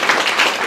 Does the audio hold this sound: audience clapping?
yes